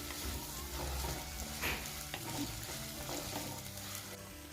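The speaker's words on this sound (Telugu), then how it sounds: "ఇప్పుడు ఒక స్పూను అల్లం వెల్లుల్లి పేస్ట్ వేసుకొని బాగా ఫ్రై చేసుకోవాలి." Ginger garlic paste frying in a pan for gongura chicken, a steady close sizzle with stirring scrapes and a brief louder crackle partway through, and no talking.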